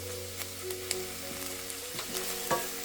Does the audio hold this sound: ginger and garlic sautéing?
yes